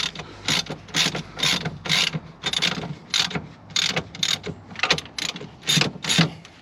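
A ratchet clicks in quick rhythmic bursts while undoing bolts on a Ferrari Testarossa Spider. The close, steady ratcheting strokes repeat about a dozen times with no talking.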